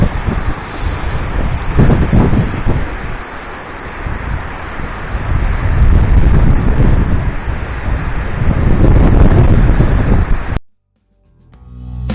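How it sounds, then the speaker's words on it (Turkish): Strong storm wind at a forest watchtower on the Erecek plateau buffets the microphone in loud, surging gusts that rise and fall, then cut off abruptly near the end. "biz de biraz rüzgara maruz kaldık şu anda"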